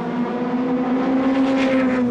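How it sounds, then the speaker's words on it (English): A Toyota race car at Le Mans roars past close by with a sustained, steady engine tone that swells slightly as it goes by. There is no speech. "the car comes right back in front of the Kraus racing machine"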